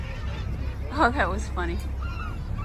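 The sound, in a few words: seabirds calling at a rock, Gull Island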